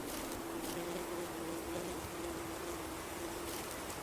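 Bees in the survival game Ember's Verge give off a steady, quiet buzzing drone that holds unbroken for several seconds, with no talking over it.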